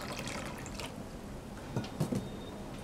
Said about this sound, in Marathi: परत पाणी घालून धुवून घेऊया.